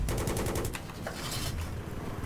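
Rapid bursts of cannon fire from an AH-1Z Viper attack helicopter in Battlefield 3, a fast rattling stream of shots that breaks into shorter strings, loud and close.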